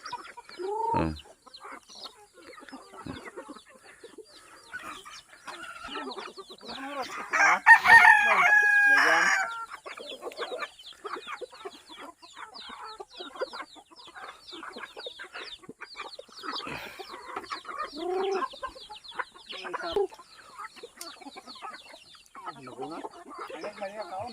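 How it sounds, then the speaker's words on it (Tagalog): Chickens cluck steadily throughout while a rooster crows loudly partway through, with a busy farmyard background of overlapping bird calls. "marami na pong manok si Samuel guys"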